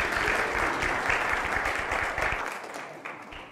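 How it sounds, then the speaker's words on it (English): An audience at a meditation teaching claps together, a dense burst of applause close by that fades out over a few seconds. "Frank Leder, let's hear a little bit of hand clapping."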